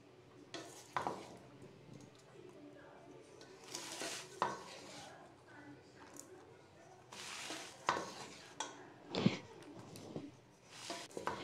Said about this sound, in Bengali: দেখো আমি কিভাবে ভাতটা মেশাচ্ছি।